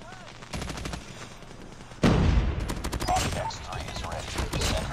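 Call of Duty gunfire from a RUS-79U submachine gun and other weapons crackles in rapid bursts, getting louder and denser partway through, with overlapping shots and game effects.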